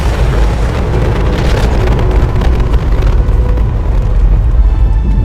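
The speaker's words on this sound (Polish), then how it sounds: "wybuch atomowy" A loud, sustained rumbling roar of an atomic explosion in the video game Mass Effect 2 fills the whole clip, dense and booming like a huge blast echoing out, with no break.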